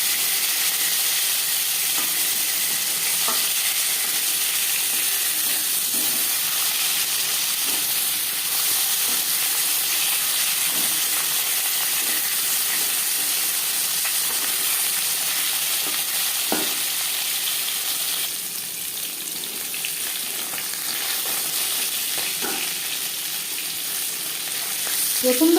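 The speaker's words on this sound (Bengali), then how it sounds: "একটা সাইড ভাজা হয়ে গেলে অপর সাইডটা উল্টে দেবো।" Pieces of katla fish fry in hot oil with a steady, loud sizzle and hiss, broken by occasional soft clicks and pops as the pan is stirred.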